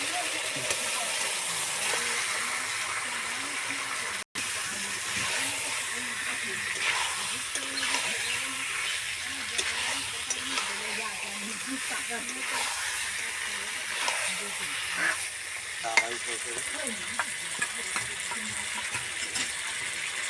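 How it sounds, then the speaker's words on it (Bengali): Chicken pieces go into a pan of sautéed spice masala for a chicken and potato curry, giving a soft, steady frying hiss that continues under a speaking voice. "কষানো হয়ে গিয়েছে, এবার মাংস দিয়ে দিচ্ছি।"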